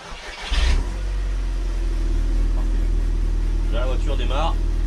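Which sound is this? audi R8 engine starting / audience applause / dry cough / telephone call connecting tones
audi R8 engine starting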